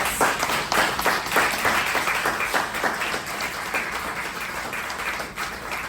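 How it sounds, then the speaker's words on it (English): Audience applauding at an evening motivational talk on mental health, a dense sustained wash of clapping hands filling the room, loud and steady across the whole stretch. "give yourselves a round of applause for coming here tonight"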